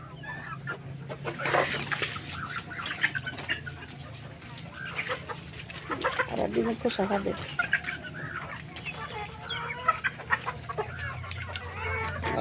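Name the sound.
chickens clucking beside hatching chicks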